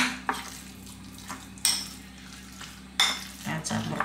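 Cornstarch being stirred into minced chicken in a bowl, with a few sharp spoon clinks against the bowl and soft mixing scrapes between them, close and fairly quiet.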